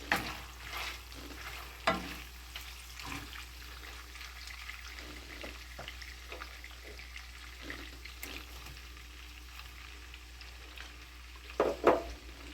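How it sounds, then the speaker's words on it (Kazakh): A soft steady sizzle of meat frying with onion in a pan, broken by scraping and stirring clatters, including a louder clank near the end. "Етіміз қуырылып жатыр."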